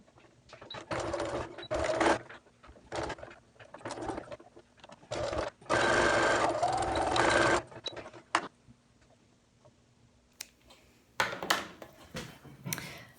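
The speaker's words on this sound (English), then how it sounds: "you're going to sew right on top of that seam all the way there" A sewing machine runs in bursts, stitching a seam through folded cotton fabric for a face mask, with short runs and one long continuous stretch of stitching, close and clear with pauses between.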